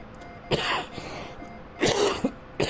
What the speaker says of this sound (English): I'm sorry, I do have a persistent cough.